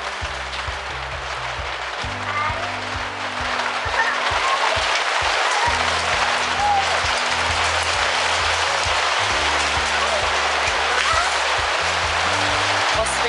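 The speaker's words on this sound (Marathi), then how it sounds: "तसं तुम्ही बघू शकता गारा पडत आहेत ॲक्च्युली" Hailstones and heavy rain pelt down together outdoors in Kolhapur, a dense, steady broadband patter that holds loud and unbroken throughout, with low hum-like tones underneath and no voices.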